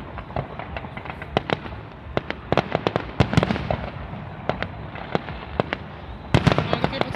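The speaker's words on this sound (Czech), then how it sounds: "To se radši kouknu na ten nádherný ohňostroj." Fireworks by Macedos Pirotecnia of Portugal at the Ignis Brunensis show in Brno burst in a rapid, irregular string of sharp bangs and crackles, some distant, some louder, with a few spectators' voices between them.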